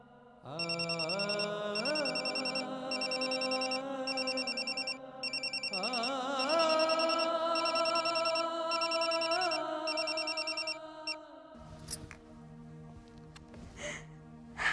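A phone rings with a repeating electronic tone for about eleven seconds, then stops, followed by faint background noise.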